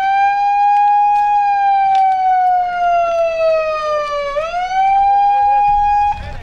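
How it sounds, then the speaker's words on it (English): A hand-sounded siren at a nonviolence protest wails loud and near in one long sustained tone that slowly sinks in pitch, dips, then rises back up before cutting off abruptly. "I will sound the siren"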